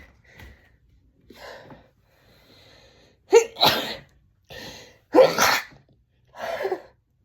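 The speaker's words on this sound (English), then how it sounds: "I gotta sneeze, I think." A woman who is sick with a cold sneezes indoors, a few small sniffs and breaths building up before two loud, close sneezes and a softer third burst, with no talking.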